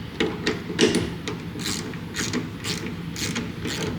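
A ratchet tightens a 13mm hinge bolt on a swing case being installed on a 2022 Ford F350, giving close, repeated mechanical clicking strokes in a steady rhythm.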